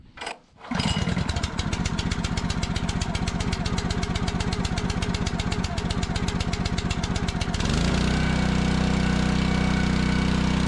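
Split-Fire 2265 log splitter engine starting up, then running steadily with a loud, rapid pulsing chug that shifts into a smoother, higher idle near the end, with no talking.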